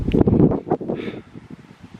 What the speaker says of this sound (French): Ah, ce vent.